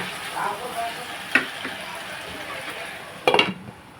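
Tomatoes fry in a pan for a vegetable curry with sesame and coconut, a steady soft sizzle broken by a couple of sharp clinks of a utensil against the pan, while someone talks over it.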